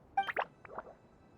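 Water droplet sounds in the Genshin Impact video game, a few soft plops and drips close together, fairly faint and heard alone.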